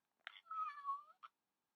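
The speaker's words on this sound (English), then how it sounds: "A little meow in the middle there." A single short cat meow sounds alone in silence, a drawn-out tonal mew framed by brief clicks at its start and end, close and clear.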